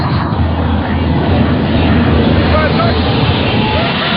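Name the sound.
Y2K jet turbine motorcycle racing at high speed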